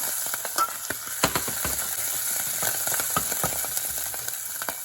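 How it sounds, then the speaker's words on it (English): Hot peppers frying in hot oil in a pan: a steady, even sizzle close up with occasional sharp pops and stirring clicks, and no talking. "And let that fry up for about a minute. Let that oil infuse that heat from the peppers."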